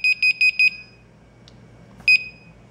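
A BIBENE WiFi home security alarm triggers with a rapid run of five loud high-pitched beeps, then a pause and one more beep, close and clear with no talk.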